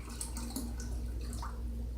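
Water pours into a 2-cup measuring cup, a faint, quiet trickle with small splashy drips over a low background hum, with no speech.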